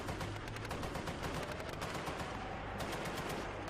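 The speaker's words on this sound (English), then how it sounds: "while the machine gun continues to fire to suppress them" Sustained machine gun fire from an armored infantry fighting vehicle in combat, a dense rapid stream of bursts that runs on without pause, loud and close, with no voices.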